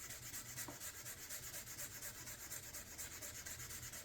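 Sandpaper of 400 grit rubs steadily across a faded plastic motorcycle fuel tank, a soft, continuous scratchy hiss with a light back-and-forth rhythm, close and faint, with no talking.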